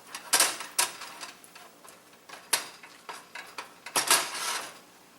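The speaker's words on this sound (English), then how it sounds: "we're going to put this into this little pan here to mold it" Homemade raw-milk mozzarella being put into a small pan to mold it: a series of close clinks, knocks and scrapes of kitchenware at uneven intervals, some louder clatters among softer taps, no talking.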